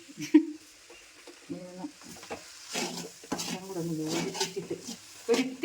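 Paneer cutlet masala is sautéed and stirred in a pan, with a soft sizzle and intermittent scraping and clinking of a spoon while a person talks over it.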